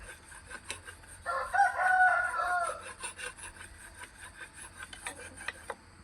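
A rooster crows once at moderate distance, a long warbling call over faint background clucks and clatter.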